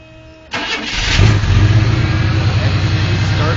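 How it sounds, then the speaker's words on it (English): A 1975 Pontiac Ventura's engine cranks and catches after a moment of quiet, then settles into a loud, steady rumbling idle close by. "Starts right up and purrs like a charm."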